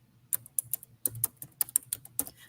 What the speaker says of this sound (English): And I'm typing in small letters.